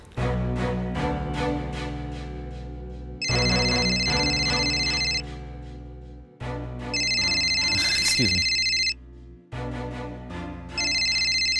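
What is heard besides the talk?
phone ringtone, incoming call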